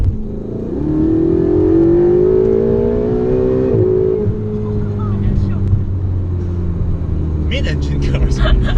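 A 2017 Ferrari 488 GTB, a 670-horsepower mid-engine car, accelerating hard, its engine note climbing steadily for a few seconds before easing to a lower rumble, loud and close, with people talking over it.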